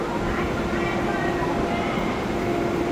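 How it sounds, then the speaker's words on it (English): A CRH high-speed train runs along a concrete-track rail line, its steady broadband rumble and hum continuous and fairly loud throughout with no clear pass-by peak. "This is a real high-speed train."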